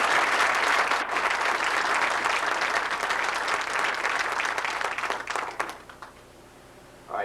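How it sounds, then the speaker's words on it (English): Dense, sustained applause from a crowd at a boxing press conference fills the room for about five seconds, then thins out and fades to a quiet hum. "I think everyone here should give him a great round of applause."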